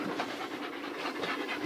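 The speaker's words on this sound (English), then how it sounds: "Here's a spotted pup I raised." A spotted hound pup pants in quick, rhythmic breaths, close and steady throughout, with no talk over it.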